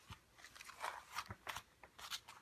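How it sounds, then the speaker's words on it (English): Scissors cutting diagonally across the corner of a paper envelope, quiet crisp snips and crunchy paper crackles in an irregular series, close but faint. "So I'm just doing a diagonal cut across the corner"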